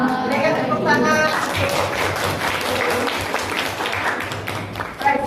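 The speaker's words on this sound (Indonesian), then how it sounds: "Berikan tepuk tangan." A classroom audience claps after a group presentation, with brisk clapping mixed with chatter and voices over roughly five seconds.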